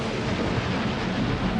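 Thunder from a thunderstorm rolls as a loud, continuous, deep rumble with no distinct cracks, and no voices are heard.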